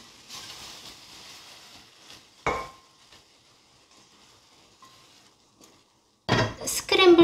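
Scrambled eggs are scraped from a pan onto a plate in a home kitchen, heard as a few clinks and scrapes of utensil against cookware, then a louder clatter near the end, with quiet gaps between.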